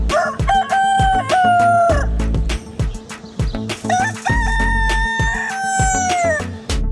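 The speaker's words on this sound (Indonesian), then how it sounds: "Wow, ternyata ini ayam jantan." A rooster crows loudly and close, two long drawn-out calls with rising and falling pitch, with clucking and scratching sounds around them.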